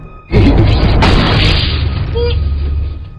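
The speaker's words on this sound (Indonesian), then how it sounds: "tembakan Todd yang tempat menembus leher Chris langsung menewaskannya seketika." A single loud film gunshot booms, its heavy, rumbling roar carrying on for a few seconds before slowly fading.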